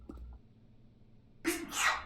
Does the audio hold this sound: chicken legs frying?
no